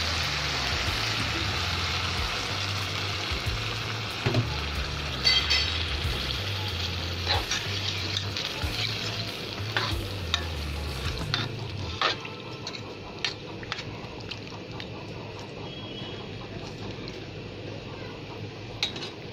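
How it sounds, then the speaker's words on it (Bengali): Tomato and dried fish curry frying in a pan as broth is poured in, a steady close sizzle with a low bubbling rumble that changes and thins out midway, dotted with scattered clicks and pops. "এবার আমি ঝোল দিয়ে দেবো।"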